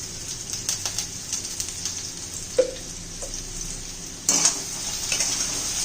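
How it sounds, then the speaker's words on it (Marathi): Raw mango sautés in oil in a pan, a low steady sizzle with light spatula scrapes and a couple of sharper clinks of utensil against metal, close and alone. "थोडं परतून घेऊया आपण"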